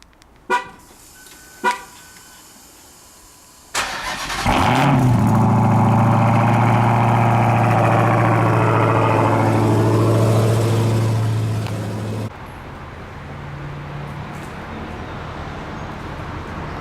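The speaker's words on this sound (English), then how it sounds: "let's hear a cold start" Two short clicks, then a starter cranks and a car engine catches on a cold start with a loud flare, settling into a steady idle before dropping to a quieter background.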